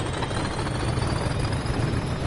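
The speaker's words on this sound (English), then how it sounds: "hear that engine roar" A train engine in Train Sim World 3, on the West Cornwall local line, roars at full power as a dense, sustained low rumble, loud and close, with no voices over it.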